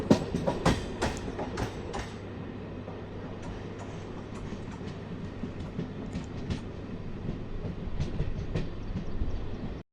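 A MEMU passenger train runs along the rails approaching Aravali station, a steady rumble with sharp clicking wheel beats near the start, loud and continuous throughout.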